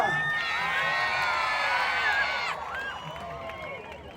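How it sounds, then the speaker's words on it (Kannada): A concert crowd cheers, whoops and applauds at the live concert stage event, a loud, dense roar with shrill voices rising throughout, then easing slightly but continuing to the end. "ನಿಮ್ಮೆಲ್ಲರ ಪ್ರೀತಿಯ ಚಪ್ಪಾಳೆ ಜೊತೆಗೆ ಅಭಿಮತ ಸಂಭ್ರಮದ ವೇದಿಕೆ ಮೇಲೆ ಇದೀಗ ಬರಮಾಡ್ಕೊಳ್ಳೋಣ ಆಂಕರ್ ಅನುಶ್ರೀ ಅವರನ್ನ"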